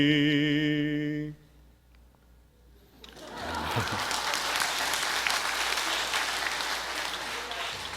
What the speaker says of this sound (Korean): 박수 받으려고 한 건 아닌데